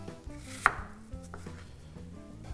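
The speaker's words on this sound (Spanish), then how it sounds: "Ahora hacemos trozos más pequeños." A knife chops vegetable strips into smaller pieces on a cutting board for a potato salad with tartar sauce, giving one sharp close knock amid quieter, scattered board taps under a faint background hum.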